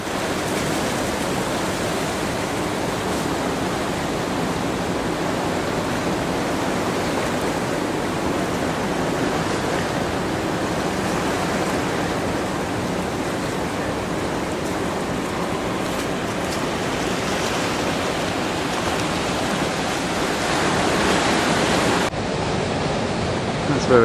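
Surf washing steadily onto a beach along the South Coast Track, broad rushing noise sustained throughout, with brief faint voices mixed in.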